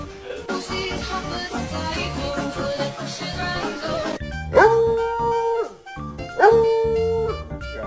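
A dog howls in long, wavering, drawn-out calls following a stretch of busy barking and yipping, loud and close, with no clear speech.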